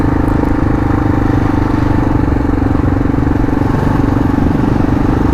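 A Kawasaki KLR650 motorcycle riding a rocky trail in Queensland, Australia, its single engine droning steadily and loudly throughout with constant rumble and rattling from the rough ground.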